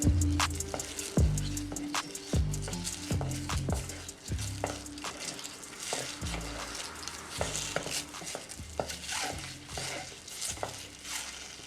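Eggs sizzle steadily in hot oil with turmeric while a utensil scrapes and stirs the pan in repeated, rhythmic strokes, close by and without talking.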